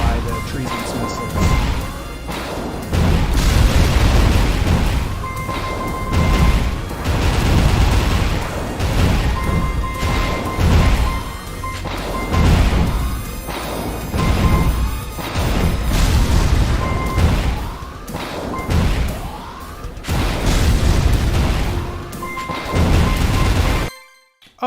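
Missile explosions from the shoot-'em-up video game Jamestown+ boom repeatedly in dense, overlapping bursts over a constant bed of game music and effects, loud and nearly continuous throughout.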